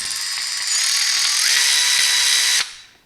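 A cordless Milwaukee ratchet wrench rated 0 to 200 RPM runs at no load, giving a loud, close motor whine that rises slightly in pitch before stopping abruptly near the end.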